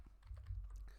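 Quick keystrokes tap on a computer keyboard as a terminal sort command is entered, a short run of soft, close clicks over a low hum.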